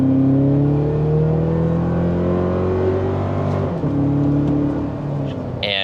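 Toyota Tacoma with a turbocharged four-cylinder engine and AWE aftermarket exhaust idles and revs, giving a loud, steady droning engine note that shifts pitch midway, close to the microphone.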